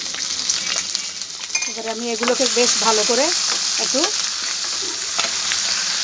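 A paste of onion, garlic and ginger with ground cumin fries in ghee, giving a steady crackling sizzle that runs under a person talking.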